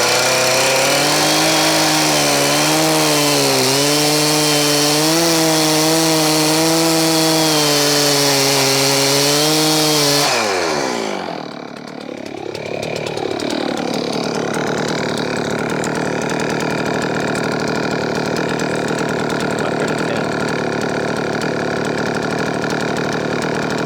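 Chainsaw fitted with a low-profile GB milling bar cutting a log on a Logosol mill, a loud sustained high engine whine under load that drops abruptly near the middle, then a rough steady running drone.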